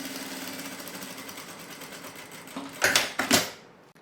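A sewing machine stitches fabric for a small cosmetic bag, a fast, even whirring run, then short louder bursts near the end as it backstitches.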